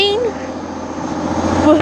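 An airplane climbing away after takeoff from Humberside airport, a broad steady engine roar heard from a train near Barnetby, with a voice speaking briefly over it at the start and end.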